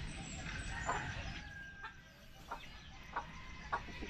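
Free-range chicken, a native Tagalog crossbreed, clucking in short bursts at a steady pace over a noisy outdoor rural background, with no other loud sounds.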